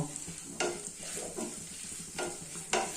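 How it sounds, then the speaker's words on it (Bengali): Masala with cumin powder stirred in a pan for a paneer dish, soft frying sizzle under repeated spatula scrapes and a few sharper strokes against the pan, fairly quiet and close. "জিরের গুঁড়ো দিয়ে মশলাটা একটু মিশিয়ে নেব"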